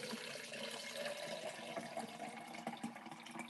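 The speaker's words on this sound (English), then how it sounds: "I'm filling up my water." Water pours from a copper pitcher into a water reservoir as a faint, steady splashing and trickling that runs unbroken throughout.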